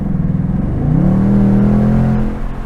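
2024 Ford Mustang Dark Horse in sport mode accelerating hard with the pedal down from about 40 mph, a loud, close engine roar rising steadily in pitch and holding strong for a couple of seconds, with no talking.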